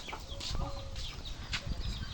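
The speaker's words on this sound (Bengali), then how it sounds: "মুরগিগুলোকে এখন হচ্ছে কাঁচা চাউল দিলাম" Chickens cluck softly as they peck at raw rice scattered for them, a low continuous scatter of short clucks and pecking close by, with no talk.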